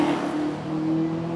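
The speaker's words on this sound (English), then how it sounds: "the glorious sound of their big V8 engines" An American classic car with a big V8 engine rumbles at a hillclimb event at Prescott, a steady, deep throbbing engine note heard fairly close with a slight rise in revs.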